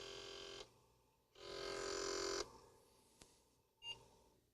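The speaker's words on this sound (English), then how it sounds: "beep. That was different." An Apple II computer sounds electronic beeps at power-on: a sustained tone, a pause, then a longer, louder steady beep followed by a few faint clicks and a short chirp, all fairly quiet.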